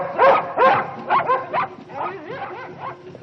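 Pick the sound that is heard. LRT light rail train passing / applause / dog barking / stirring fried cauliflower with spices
dog barking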